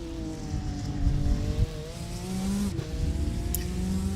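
A race car in a sim racing game at Zolder threads through a chicane, its engine note rising and falling through gear changes with brief tire noise, steady and fairly close.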